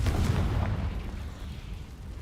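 A Confringo spell explosion in Hogwarts Legacy booms low and heavy, then rumbles and fades over a couple of seconds.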